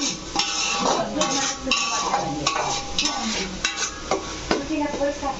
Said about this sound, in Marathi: आता फोडणी देत आहोत